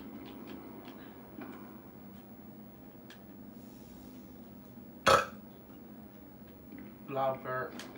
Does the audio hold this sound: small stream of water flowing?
no